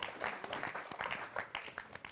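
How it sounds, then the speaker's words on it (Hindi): Faint applause from a Holi comedy event audience welcoming Ved Prakash from Delhi onto the stage, quiet and irregular clapping in uneven bursts, heard at a distance. "जोरदार तालियां वेद प्रकाश"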